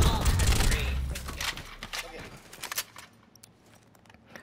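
Burst-fire gunfire in Call of Duty: Black Ops Cold War, loud bursts of shots early on that thin into scattered, fainter shots and clatter, with a voice talking over the action.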